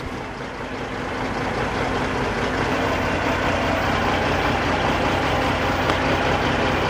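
A semi truck's diesel engine idles steadily, a loud, even low rumble that holds constant from start to finish with no voices over it.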